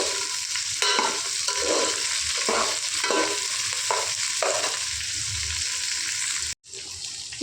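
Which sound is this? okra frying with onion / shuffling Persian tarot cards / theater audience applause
okra frying with onion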